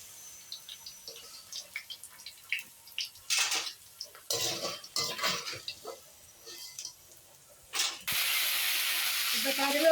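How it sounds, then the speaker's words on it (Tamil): Crispy fried plantain pieces stirred and drained in a pan, giving scattered dry rattling and clinking scrapes that grow busier, then a steady loud hiss of frying oil near the end; no talk. "வாழைக்காய் கலகலன்னு இருக்கு, சத்தமே கேட்கும்."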